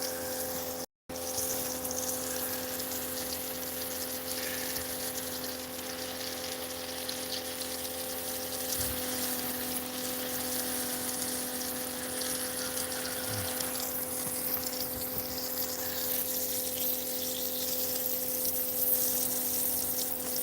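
Water runs steadily into a water trough on a homestead, a quiet continuous gush with a pump-like hum underneath, alone and fairly faint throughout.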